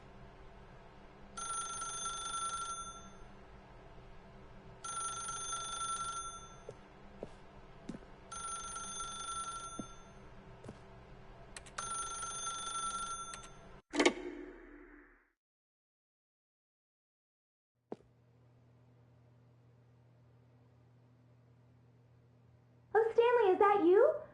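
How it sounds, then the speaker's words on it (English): A telephone bell rings in four evenly spaced bursts, each one close and clear. The ringing stops abruptly, followed by a click, near silence, a low hum and then a voice. "then pick up the phone"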